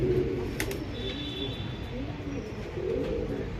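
A sabja rakdar pigeon coos nearby in soft, repeated throaty calls over a faint background, with brief clicks and light rustling between coos.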